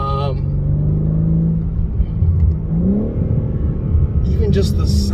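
A 2022 BMW M3 Competition M xDrive in Skyscraper Grey Metallic drones loudly and close, its engine note swelling in a brief rising rev near the middle before settling into a steady, rumbling pull.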